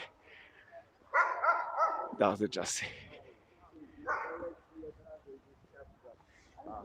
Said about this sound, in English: oh, there's the dogs